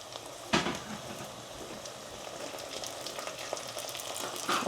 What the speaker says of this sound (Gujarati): મીઠો લીમડો નાખી દઈએ.